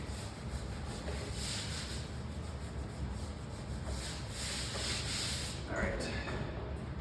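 Hand rubbing over wrinkled masking on an arcade cabinet during restoration, a steady dry scuffing and brushing sound, close and continuous, with a few sharper strokes near the end.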